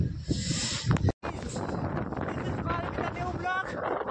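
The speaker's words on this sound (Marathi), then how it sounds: "बघा वारा तर असा भयंकर आहे, भयंकर भयंकर वारा तुम्ही पाहू शकता" Strong wind buffets the microphone with a loud, rough rush near a village, briefly cutting out once, while a voice speaks underneath.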